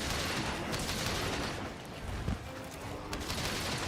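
Shrapnel ammo fire in Monster Hunter Rise crackles in a dense, continuous barrage of rapid bursts, fairly loud against busy game noise.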